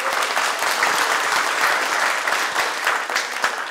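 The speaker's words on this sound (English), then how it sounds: "Let's give a big shout and an applause to Umbria" Audience applause at a lecture event, loud, dense clapping from a crowd that holds steady for several seconds without voices.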